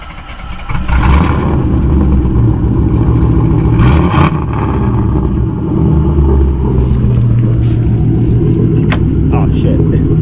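LS V8 swapped into a Nissan 300ZX Z31 turbo, engine droning loud and close while driving with steady revs, with people talking over it.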